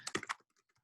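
A short burst of a few quick keyboard clicks, close and clear, then fading to faint scattered taps and near silence.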